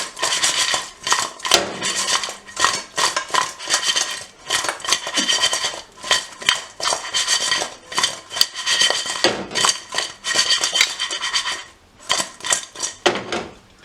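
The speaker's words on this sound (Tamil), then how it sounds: "கரண்டியால் மிக்ஸ் பண்ண கஷ்டமாக இருந்தால் இதை நீங்கள் இப்படி குலுக்கி விட்டீங்களா எல்லா இடத்துலையும் மிக்ஸ் ஆகி வரும்" Chicken wings tossed with sauce in a bowl being shaken by hand, a steady run of rattling, clattering knocks in quick bursts with brief pauses, close and fairly loud, no talking.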